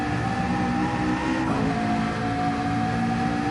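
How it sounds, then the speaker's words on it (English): Race car engine at Le Mans in Gran Turismo 7, a steady, sustained drone held at constant pitch with a slight shift midway, loud and alone with no talk. "I love the sound of this car"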